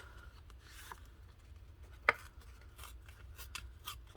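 Purple paper is torn up by hand for a journal page: a few short, crisp ripping bursts spaced irregularly over a quiet room, one sharper tear standing out in the middle.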